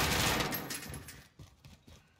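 Gunfire in a Call of Duty: Warzone match, a loud opening burst of sustained shots that thins into scattered, fainter reports and rattles, with no talking.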